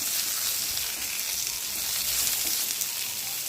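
Steady, close sizzling of pointed gourd (potol) pieces frying in oil in a pan, a dense continuous hiss with small crackles and no voices.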